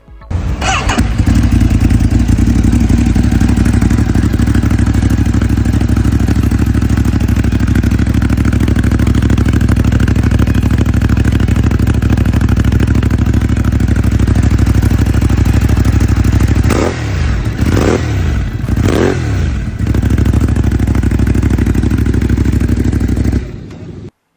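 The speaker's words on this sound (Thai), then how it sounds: "เดี๋ยวมาฟังเสียงเครื่องยนต์กันนิดนึงนะครับ" A Ducati Monster 821 Stealth (2020) motorcycle engine idles steadily and loudly for the whole stretch, with a couple of brief revs or clunks near the end.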